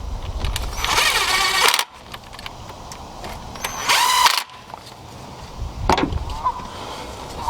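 Power tool tightening bolts on a Toyota 3MZ-FE V6 engine during a thermostat replacement, heard as two loud whirring bursts of a couple of seconds each with quieter workshop sounds between them.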